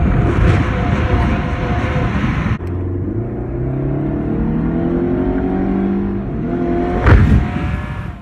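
A Chrysler PT Cruiser's engine revs with the windows down, a loud, busy stretch of acceleration giving way to a steady drone whose pitch climbs in stages, then another sharp rev burst near the end.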